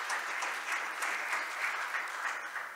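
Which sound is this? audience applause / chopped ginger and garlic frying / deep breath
audience applause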